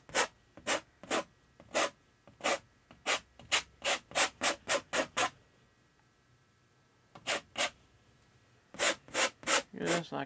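A painting knife scraping oil paint across canvas to build up a mountain in a landscape painting, with short rhythmic rasping strokes in quick clusters, close and crisp, with a pause in the middle.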